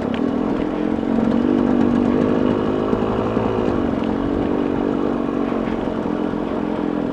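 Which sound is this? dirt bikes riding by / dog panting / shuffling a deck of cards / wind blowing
dirt bikes riding by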